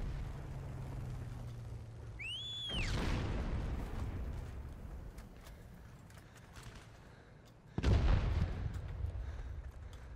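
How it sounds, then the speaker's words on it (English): A tank fires in the video game Heroes & Generals: a sharp, heavy blast near the start with a rumbling tail, then a second loud boom near the end, with a whistling sweep before the first. "Getting shot by a tank."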